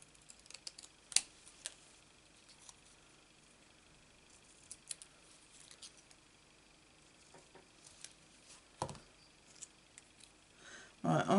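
Scissors snip paper to cut out a card sentiment with faint, scattered, close clicks and snips spread over a quiet room, ending with a louder rustle.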